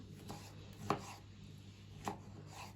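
A few distinct knife chops through tomatoes on a cutting board, spaced unevenly against a quiet kitchen background.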